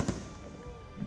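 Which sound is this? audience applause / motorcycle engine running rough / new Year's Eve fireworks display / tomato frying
new Year's Eve fireworks display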